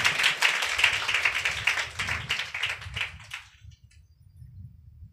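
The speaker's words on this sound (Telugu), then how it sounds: "చప్పట్లు కొట్టి ప్రభువును గణపడదాం." A church congregation at a Sunday service claps together in a dense, steady burst of applause lasting about three seconds before it fades out, leaving a low murmur of the room.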